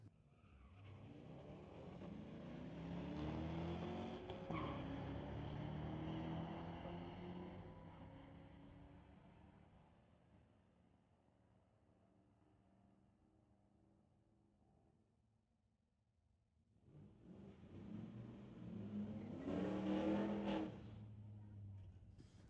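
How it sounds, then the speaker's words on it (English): Two Corvettes, a 2006 model against a newer-generation car, drag racing at Mission Raceway Park, engines roaring loud and near before fading, then a second burst of revving and tire noise rising sharply, with faint announcer talk beneath. "Racing a newer generation Corvette in the right lane."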